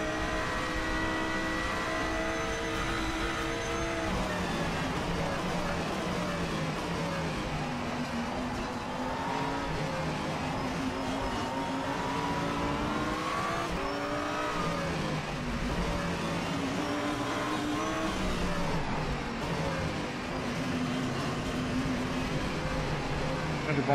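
The engine of a Lamborghini Huracan Super Trofeo Evo race car in the rFactor 2 racing game drones on continuously, rising and falling in pitch as it revs up and down.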